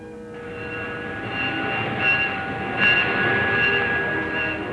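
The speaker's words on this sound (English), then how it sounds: "the first scheduled train service started its run between San Francisco and San Jose" A train runs on a railroad with a steady, loud rumble and sustained tonal whine that swells slightly midway, heard without talk.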